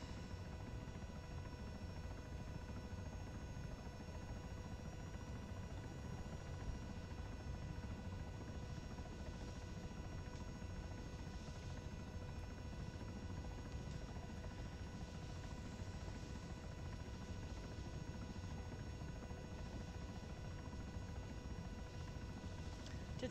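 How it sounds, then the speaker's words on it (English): Helicopter rotor and engine noise in ARMA 3, a steady dense drone with a constant buzzing whine and rotor throb holding evenly for the whole stretch, close and continuous with no pauses. "Did sound like another helicopter got awful close at the apex of that climb, didn't it?"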